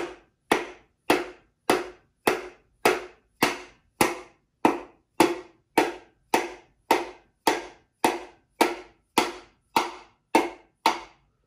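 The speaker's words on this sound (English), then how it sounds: "using like a rubber hammer, then you can just tap it in" Rapid, evenly spaced taps, about twenty sharp knocks from a rubber hammer tapping a piston into a Jeep 4.0L engine, in a steady rhythm, close and clear with nothing else in between.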